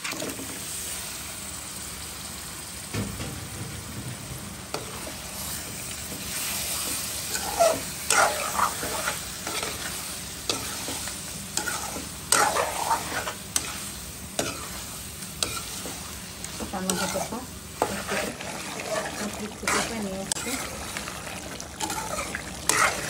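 Meat fries and is stirred in a pan, giving a continuous sizzle broken by frequent scraping and clattering stirring strokes, close and fairly loud.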